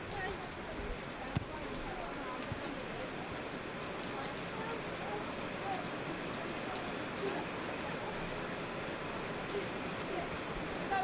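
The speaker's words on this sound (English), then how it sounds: "The rain starts to come down heavier again." Steady rain pouring down on an open football ground during an Aberystwyth Town versus Wrexham match, a continuous dense hiss with low rumble throughout.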